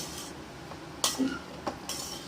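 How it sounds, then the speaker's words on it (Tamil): Carrot and beans poriyal is stirred in a pan, cooked without oil: quiet and close, with a few sharp utensil clinks and scrapes against the pan over a faint background hum. "இதை நல்லா அப்படி கிண்டி விடணும்"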